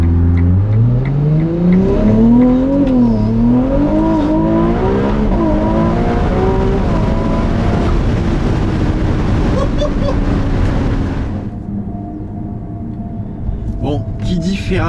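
A Ferrari 296 GTB hybrid revs hard under acceleration, its rising engine note climbing through gears in loud, close sweeps with rumbling road and wind noise, then dropping to a quieter cruise near the end.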